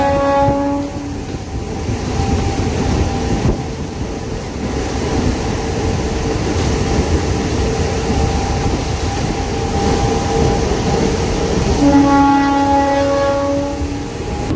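A 12-coach MEMU passenger train rumbles loudly and steadily close by, its horn sounding at the start and again near the end over the continuous rolling noise.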